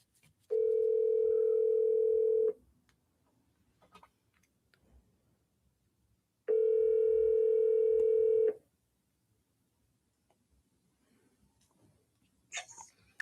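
Outgoing phone call ringing: two long, steady ringback tones about two seconds each, separated by a pause of silence, loud and alone with no talk.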